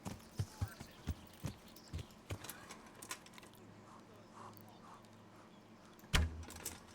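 Horse hooves clip-clopping at a steady walking rhythm while riding in Kingdom Come Deliverance, close and moderately loud at first, then fading under low ambience before a heavier thud near the end.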